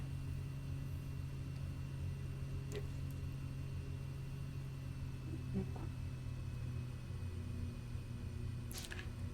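The Blackbird Porter aircraft engine drones steadily in a flight simulator, a constant low rumble and hum with faint clicks, even and unbroken throughout.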